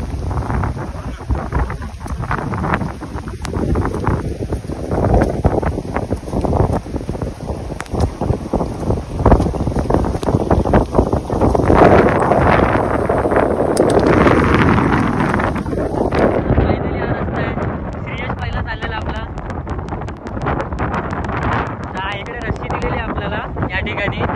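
Strong wind buffets the microphone on a rocky trail up Kalavantin Durg mountain fort, a loud, continuous roar with gusts that rises mid-way, while people talk over it.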